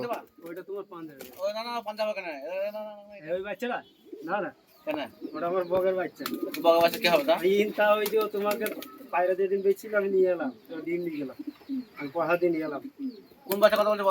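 Andra pigeons coo repeatedly at close range, soft throaty rolling calls overlapping one another, with occasional higher chirps mixed in.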